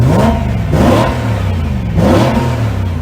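A BMW M car exhaust with a titanium muffler revs in repeated rising swells, a deep throaty drone that climbs and falls twice, loud and close with no talking.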